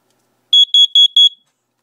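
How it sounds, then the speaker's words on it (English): A carbon monoxide alarm gives four sharp, high electronic beeps in quick even succession, loud and close in otherwise silent surroundings. "This is the alarm, but I'm working on a voice one that will say carbon monoxide is detected."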